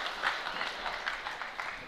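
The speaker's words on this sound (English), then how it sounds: "some applause from their side of the stand." Scattered applause from one side of the stands at a boys high school basketball game, a modest patter of clapping with crowd murmur, moderately distant and steady for a couple of seconds.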